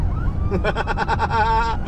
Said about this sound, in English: Oh, quick, there's a siren.